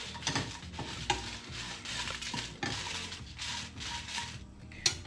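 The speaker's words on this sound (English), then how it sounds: "Roast it a bit." Chilies roasting in a hot pan for prawn ghee roast, stirred with repeated scraping strokes over a steady sizzle, with occasional clinks of the utensil against the pan, fairly close and with no voices.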